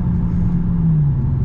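Dodge Challenger Hellcat under full throttle, a loud, heavy engine rumble from inside the car with a low tone slowly rising, steady and close.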